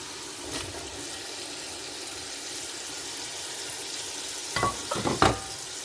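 Steady sizzling of tomatoes and green chillies frying in a pan, with a few clattering stirs near the end; no voices.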